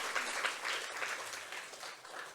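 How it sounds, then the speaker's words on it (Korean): A church congregation claps together during a Sunday afternoon worship service, a continuous patter of many hands that sounds fairly faint and distant. "우리 다 같이 뜨겁게 감사와 찬양의 영광의 박수를 드리겠습니다"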